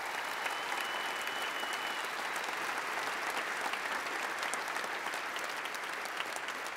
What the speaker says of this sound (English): a big round of applause for Layla's support team